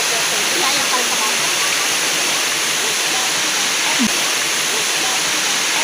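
Kagbuho Falls roars as a dense, constant wash of falling water, loud and close, filling the whole stretch without a break; a voice is faintly mixed in.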